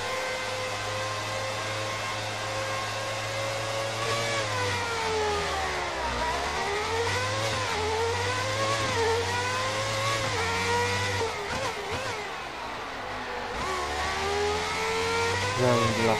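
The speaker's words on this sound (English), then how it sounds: "I definitely prefer the McLaren sound over the Ferrari sound." A McLaren Formula 1 car engine in the F1 2019 video game screams steadily at high revs, its pitch swooping down and back up through gear changes and corners, with no voices over it.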